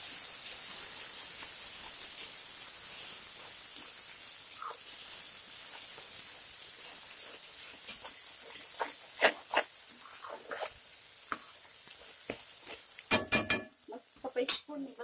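Spice tempering sizzles steadily in hot oil, a soft continuous hiss close by, broken in the later seconds by sharper crackles and a few scraping or stirring knocks.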